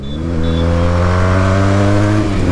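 Sport motorcycle engine holding a steady, tonal high-rev drone while riding, loud and close with a slight rise near the end.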